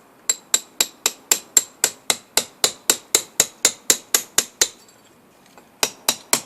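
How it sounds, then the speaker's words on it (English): Hammer striking a chisel along the mortar joint of a garden wall during hand-tool repointing prep: a steady run of sharp, loud, evenly spaced metallic taps, about eighteen in a row, a short pause, then a few more blows. "get into the joint there and just tap along"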